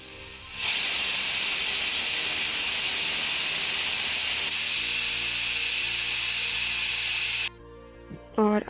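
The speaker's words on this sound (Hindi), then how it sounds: "अब इसको उबलने के लिए रख दिया" A steady, loud hiss of leafy greens (saag) boiling in a pot, water and steam filling most of the clip, cutting off abruptly near the end as a voice briefly speaks.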